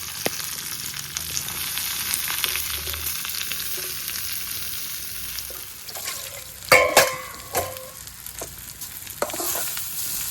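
Dried red chillies and curry leaves fry in a pan and are stirred together, giving a steady sizzle with scraping spoon strokes, and a few louder clatters near the end.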